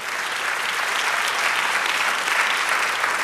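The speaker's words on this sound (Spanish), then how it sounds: "Dele un aplauso a Él, aleluya." Church congregation applauding during a sermon, a sustained, even roar of many hands clapping together in a large room.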